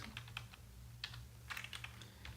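Someone typing CSS code on a computer keyboard: faint, close key clicks in short irregular bursts over a quiet background hum, with no talk.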